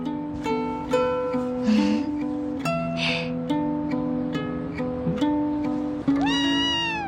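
A small rescued kitten meows repeatedly, high and close, with short rising cries and a longer drawn-out meow near the end.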